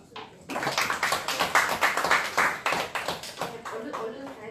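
Audience applause in a party committee meeting room, a burst of many hands clapping that starts abruptly and carries on steadily for several seconds, fairly close, with some speech mixed in.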